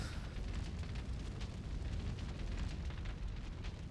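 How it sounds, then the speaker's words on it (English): Explosions in a Shadow Hearts video game battle: a dense, continuous roar of booming blasts with sharp bursts layered on top, loud and sustained, with no talking. "Damn, that was a big explosion,"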